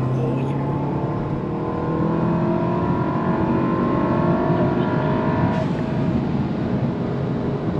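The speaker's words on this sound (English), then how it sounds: "That third gear pull is getting faster and faster every time." A turbocharged VW Golf Sportwagen with an IS20 turbo upgrade pulls hard through third gear, its engine note climbing steadily in pitch with a loud, continuous drone that drops sharply near the end as the throttle lifts.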